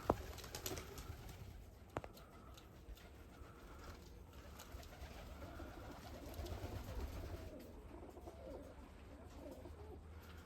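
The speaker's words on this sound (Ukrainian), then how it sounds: "Сьогодні після роботи дивлюсь, спостерігаю за голубами" Soft pigeon cooing murmurs faintly in a quiet outdoor evening setting among lavender, with rabbits nearby, occasional small clicks and light background noise.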